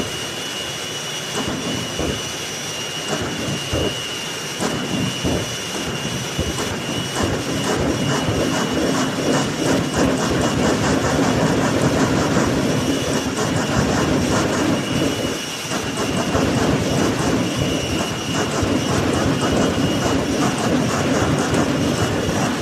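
A jet-powered race vehicle lighting its afterburner at the Cleetus Christmas tree races 2025: a loud, sustained broadband roar that swells and slightly dips midway, rumbling continuously for over twenty seconds.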